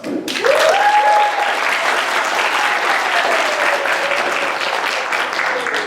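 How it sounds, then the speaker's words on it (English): A church Vacation Bible School audience applauds its leaders with a loud, full round of clapping that stays steady throughout, while a thin gliding tone, like a whistle, rises and falls over the crowd early on. "I just want to give all the leaders one more round of applause."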